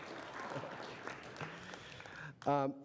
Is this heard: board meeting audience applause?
yes